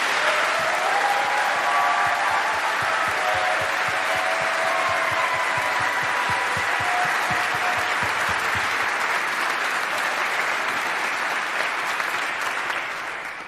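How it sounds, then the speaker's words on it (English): A large audience gives sustained, dense applause at a formal military ceremony before an oath of office. It holds loud and even for over thirteen seconds with no voices. "Let's give them a huge round of applause"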